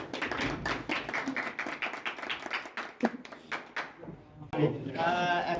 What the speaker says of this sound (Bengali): আর বাপ্পি মামা সবাই হাতে তালি দেয়